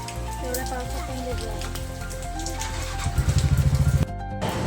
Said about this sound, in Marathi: किती पाऊस आहे.